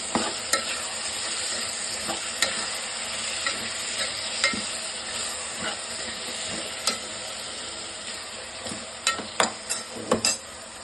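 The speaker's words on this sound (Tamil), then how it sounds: "தயிர் போட்டு அதையும் சேர்த்து நல்லா மிக்ஸ் பண்ணிக்கலாம்." A vegetable biryani mixture with curd being stirred in a pan, steady sizzling frying with repeated scraping clinks of a spoon against the metal, close and continuous with no talk.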